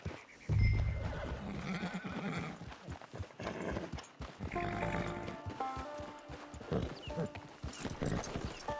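A horse in Red Dead Redemption 2 whinnies loudly and then keeps up a steady clip-clop of hooves, with further neighing calls breaking through near the end.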